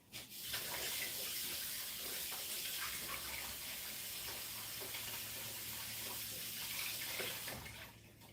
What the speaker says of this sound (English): Then this cucumber I gotta wash.